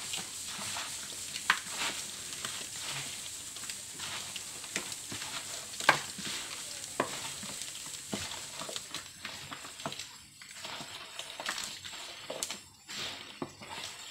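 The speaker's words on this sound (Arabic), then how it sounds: "كنخلط هذا الشيء مزيان باش الحيمات كاملين يتعطروا ليا." Spiced meat pieces tossed and mixed by hand for Moroccan dried meat (qadid), giving soft wet squishing and patting in steady irregular bursts, close and fairly quiet, with no talk.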